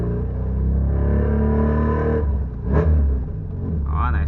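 A car engine revving hard, a low rumbling drone swelling and falling, close and loud, with a brief sharper burst midway.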